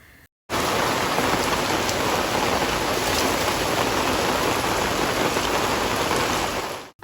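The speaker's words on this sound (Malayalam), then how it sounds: "മഴയുടെ ശക്തി അതിഭയങ്കരമായിട്ട് കൂടാൻ തുടങ്ങി" Heavy rain pouring down steadily outside a home, a dense, loud, unbroken hiss and roar of drops that holds constant for several seconds before cutting off.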